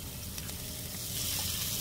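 Spicy seasoning sauce sizzles steadily in a hot pan of spicy squid stir-fry made with cheongyang chili peppers, a close, continuous frying hiss that swells slightly toward the end.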